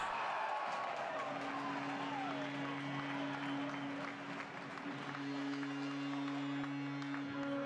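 Ice hockey arena crowd cheering and applauding after a home goal by EHC Lustenau, a broad continuous roar of clapping and voices with a sustained horn or tone running beneath.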